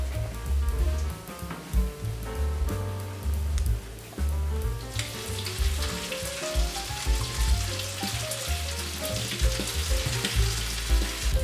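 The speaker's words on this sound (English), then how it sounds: "we're going to transfer quickly the pasta to the bacon." Cooked pasta is tipped into a pan of bacon, and a loud, crackling sizzle rises and spreads into a broad, steady frying hiss, heard up close over low background music.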